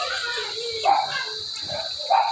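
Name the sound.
two pet dogs barking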